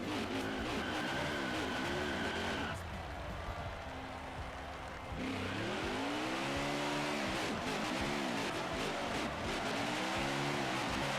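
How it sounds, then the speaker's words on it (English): A NASCAR Heat 5 race car engine roars and revs through a backwards burnout, with sweeping rising and falling engine tones, a brief dip in intensity midway, then loud sustained revving again. "The backwards burnout"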